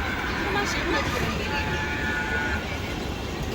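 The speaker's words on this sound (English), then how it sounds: "there's a train coming up now" A train approaches on a rail line in Shanghai, a steady broad rumble and hiss that holds at a fairly loud level throughout, with a faint high whine and a person speaking over it.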